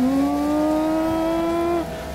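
Car engine in the Roblox game Taxi Boss, revving up as a taxi accelerates to top speed: a loud, steady rising engine tone that climbs in pitch and holds, then drops off near the end, with no talk.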